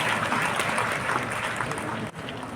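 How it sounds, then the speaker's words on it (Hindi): An audience applauds toppers at a student award ceremony in a hall, a dense steady clapping that fills the moment and then briefly dips near the end. "और आपसे बच्चों ताली जोरदार।"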